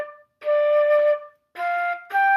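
Solo flute plays one measure of a practice piece: a long sustained tone, a pause, then two shorter notes, clear and close with no other sound.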